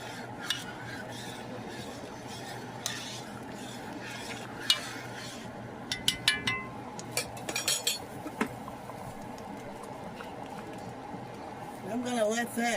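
A utensil stirs red beans in a pot with soft scraping and occasional clinks against the side, over a low simmering hiss, while someone talks throughout.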